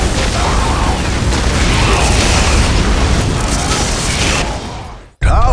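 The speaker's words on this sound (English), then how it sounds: "This area must be cleansed with orbital fire." An orbital bombardment strike in the Warhammer 40K strategy game Dawn of War: a loud, sustained rumbling blast roars for about five seconds, fades, then cuts abruptly into a new sound.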